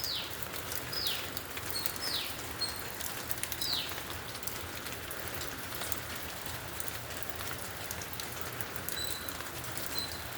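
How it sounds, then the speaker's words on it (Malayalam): Steady rain falling outdoors in Kerala at the start of the monsoon season, a continuous even hiss on surfaces with a few bird chirps overhead, no voices. "മഴ ശക്തമാകും."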